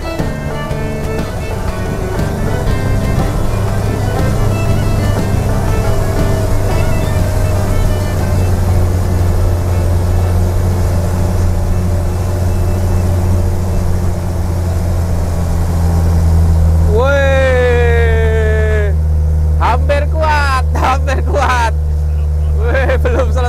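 A Land Rover engine forced up a hill in second gear at about 30, a steady loud drone that holds throughout, with someone talking over it and a brief high whine near the end.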